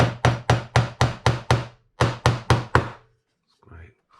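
A hickory-handled hammer taps wood in a steady run of blows, seven then four, loud and close, followed by a brief murmur of voice.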